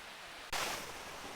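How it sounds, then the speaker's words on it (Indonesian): The tall Madakaripura waterfall roars as a steady broadband rush that swells suddenly and then holds constant, close and fairly loud, with no talking. "inilah air terjun Madakaripura ya, teman-teman"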